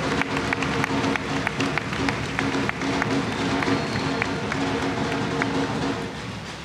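Steady crowd applause at a youth congress of the Polo Obrero, dense and continuous, with sharper individual claps standing out and a low murmur of voices underneath.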